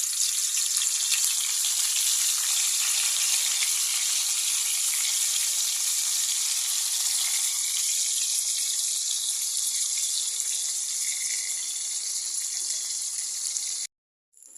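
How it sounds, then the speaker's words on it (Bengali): Fish frying in hot oil in a home kitchen pot, a steady bright hiss that runs without pause for most of the clip before cutting off abruptly near the end; no voices. "আমি এভাবে মাছ ভেজে ওই মাছ ভাজার তেলটাই পাতিলে নিয়ে"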